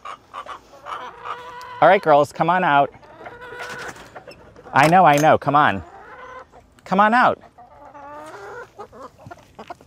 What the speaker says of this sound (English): I think it's the perfect size for 10 little chickens.